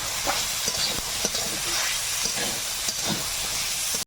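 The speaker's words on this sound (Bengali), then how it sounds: "আলু একটু ভেজে নেবো ভালো করে" Potatoes frying in a pan with a constant bright sizzle and hiss, broken by a few soft clicks of stirring; close-up, no talking.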